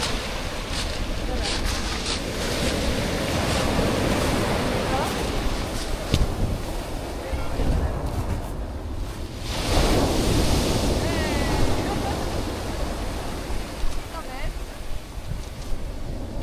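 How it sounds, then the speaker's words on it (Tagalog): Continuous roar of ocean surf with heavy wind buffeting the microphone, swelling in the middle; voices faintly mixed in. "Maangat yung alon"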